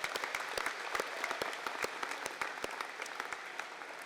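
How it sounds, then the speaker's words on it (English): An audience at a convocation ceremony claps steadily for about four seconds, a dense crowd of individual hand claps sounding close and lively, with no speech over it. "Let's give them a round of applause."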